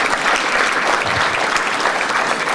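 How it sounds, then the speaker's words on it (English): An audience at the 2015 Caribbean American Heritage Awards applauds, a dense steady wash of clapping from many hands filling the hall without pause. "Yes, clap them, because it takes cash to care."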